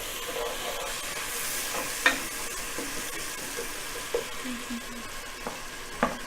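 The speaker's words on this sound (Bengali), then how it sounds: "পেঁয়াজটা দেওয়ার পরে একটু হালকা নেড়ে দিতে হবে।" Onion stirred as it fries in a pan, a steady sizzle with a few sharp utensil scrapes and taps scattered through, close by with no talk.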